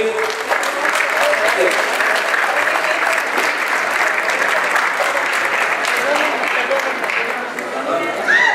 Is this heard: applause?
yes